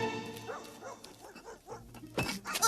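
A dog barks and whimpers in short, irregular bursts at close range, with a louder yelp near the end and no talk over it.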